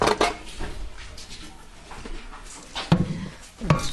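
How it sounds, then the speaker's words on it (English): A dough hook is pulled off a stand mixer after kneading jalapeno cheese bread dough, with metallic clanks and knocks at the start and near the end and quieter handling rustle in between. "if I can get the dough hook off of it"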